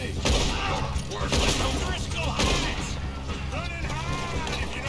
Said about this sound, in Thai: โอ้ยิงกันมั่วอีตัว